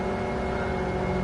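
Race car engine in Gran Turismo Sport bouncing off the rev limiter at Sardegna, a loud, steady buzzing drone held at high revs with stacked harmonics, running alone without talk.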